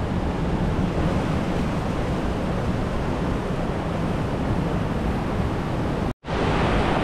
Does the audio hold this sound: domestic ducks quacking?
no